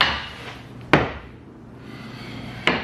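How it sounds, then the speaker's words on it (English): Hammer rapping on a piece of super-dense, quilted-grain wood: two sharp, hard knocks about 1.7 seconds apart, close and loud over a quiet room background. "Let's give it the hammer test."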